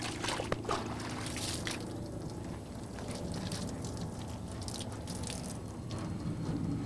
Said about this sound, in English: Flip the mitt over, a couple of passes, and it's ready for a rinse.